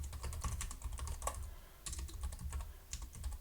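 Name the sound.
computer keyboard keys being typed and pressed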